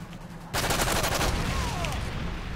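Rapid gunfire from a weapon in Modern Warfare 3 free-for-all play, a dense loud burst of shots that starts abruptly after a quiet moment and keeps going, with a faint whistling tone partway through.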